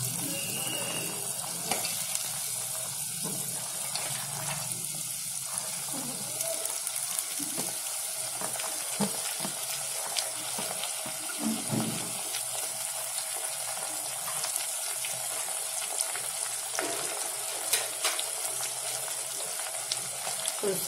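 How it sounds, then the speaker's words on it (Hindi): Chopped cowpea pods go into a pan with potatoes and fry in a steady, moderately loud sizzle, with faint stirring clinks now and then and no talk. "अब इसमें डालेंगे कटी हुई चोली"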